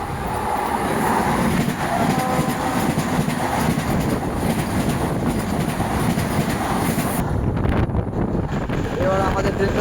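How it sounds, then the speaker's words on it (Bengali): A Vande Bharat train on the New Jalpaiguri–Patna run passes close by the Uttar Banga Express in a steady, loud rumble with wind buffeting, and the rush tails off near the end. "এবার আমাদের ট্রেনের সাথে ক্রসিং হবে নিউ জলপাইগুড়ি পাটনা বন্দে ভারতে।"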